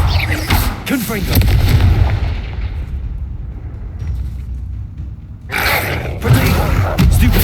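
Confringo blasting spell explosions in Hogwarts Legacy, heavy booming bursts at the start and again near the end with rumbling noise between, loud and close, with a voice shouting over them.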